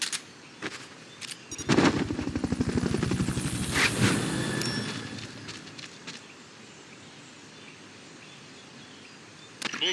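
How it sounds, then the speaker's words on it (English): Helicopter in the video game Metal Gear Solid Peace Walker, a loud rhythmic rotor chop that swells for a few seconds over a steady game-ambience bed, mixed with sharp gunfire-like bursts, then fades to a low background hum. "Fulton recovery subject confirmed onboard helicopter."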